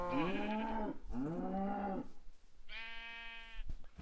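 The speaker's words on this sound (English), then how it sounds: "How did I hit one of the sheep?" A Minecraft sheep bleats three times, loud and wavering. The first two cries come back to back and a shorter, higher bleat follows after a brief pause, with no speech.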